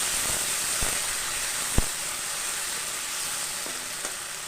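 Ginger paste sizzles in hot oil left from frying potatoes, a steady close hiss broken by a few light taps of a spoon on the pan, one louder clack near the middle, and no talking.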